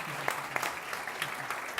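Audience applause at a senior housing panel discussion, a moderate, steady patter of clapping from a room of people with no voices over it.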